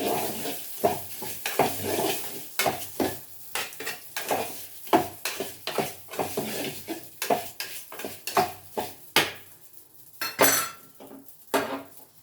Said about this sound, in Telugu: ఇలా వేయించుకోవాలి సేమియాలు